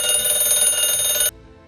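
An alarm clock rings with a loud, steady bell clatter for just over a second, then cuts off abruptly into near silence.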